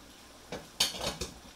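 Onions, zucchini and peppers stirred in a pan for a gluten-free ground turkey dinner, heard as three separate clinks and scrapes of a utensil against the pan, moderately close, with no talking.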